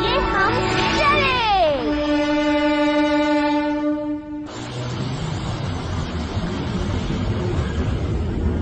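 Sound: train starting to move, cartoon

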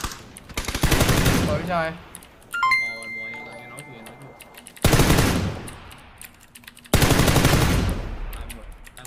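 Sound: gunfire in the video game PUBG

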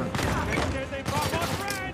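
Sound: shotgun fire in the video game Uncharted 4

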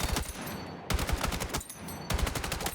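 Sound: automatic gunfire full spray in video game Battlefield 6

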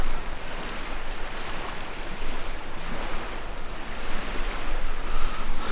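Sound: waves at a small beach in Scandinavia

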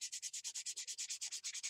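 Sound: sanding the edge of a model rocket fin

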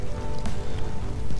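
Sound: rain in the video game Ark Survival Evolved

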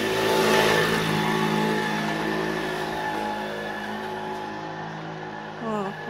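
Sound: motorcycle engine revving

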